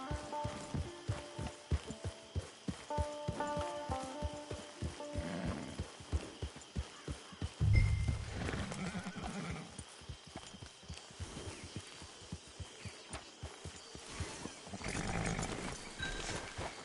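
Hooves clip-clop in a steady trotting rhythm in the Red Dead Redemption 2 video game, with a horse snorting and neighing partway through and faint background music, then the hoofbeats continue at a quieter, more scattered pace.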